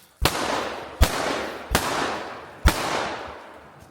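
Four sharp, loud gunshots ring out at shooting practice, spaced unevenly about a second apart, each with a short echoing tail, no talking in between.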